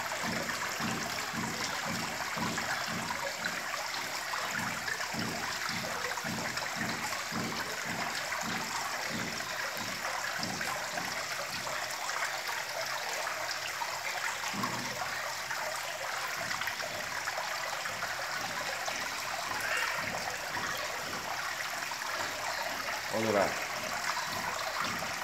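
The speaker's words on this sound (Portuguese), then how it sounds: "Cascatinha que eu fiz aqui" Water trickles and splashes steadily down a small homemade cascade feeding a fish pond, a continuous close wash of sound with a few faint low knocks underneath.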